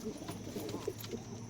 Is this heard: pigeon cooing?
yes